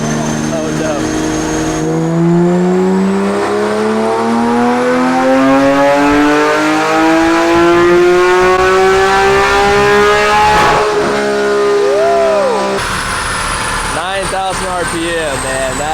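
Modified Corvette C8 with a loud exhaust on a dynamometer, its engine screaming up through the revs in one long, rising pull before the note cuts and settles. Voices exclaim over the roar.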